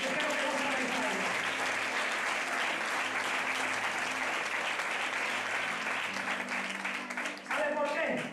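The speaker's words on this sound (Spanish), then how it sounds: "Yo quiero que usted le brinde un aplauso al Señor." A church congregation at Sunday school applauding, steady sustained clapping from many people filling the room, with some voices mixed in and a brief dip near the end before clapping resumes.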